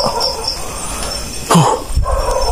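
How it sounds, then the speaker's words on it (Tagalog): A dog gives a short bark amid a steady background hum, with a faint yip shortly after. "Tumahon na yung aso sa ibaba."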